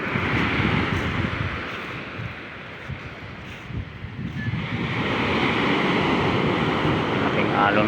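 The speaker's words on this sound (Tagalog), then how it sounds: "Tapos malalaki pang alon ngayon," Big ocean waves crash and roll along the shore under strong gusting wind, a loud, continuous roar with heavy wind buffeting on the microphone.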